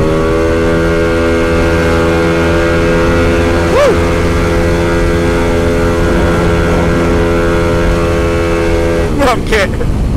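Yamaha Aerox 250 scooter engine pulling steadily as it rides downhill, a continuous near, loud drone with stable harmonics and a brief rising rev, with traffic noise around.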